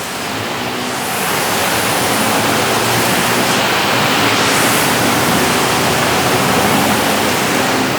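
Heavy rain pours down beside the Siam BTS skytrain station and skywalk in Bangkok, with flooding on the street below. A loud, even, dense hiss swells in over the first second and then holds steady.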